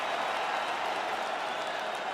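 A video game arena crowd roars and applauds in a steady, dense wash after a UFC 5 fight ends, with no breaks or rises.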